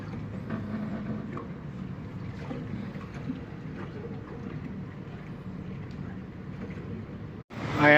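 A Nile cruise ship under way between Aswan and Luxor gives a low, steady rumble of engine and water with wind buffeting the microphone, ending in a sudden loud burst of noise.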